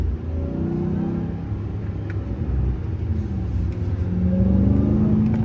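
A Ram TRX pickup truck's Hellcat engine rumbles and revs up through a downshift, its deep drone rising and falling in pitch, heard steadily with no talking.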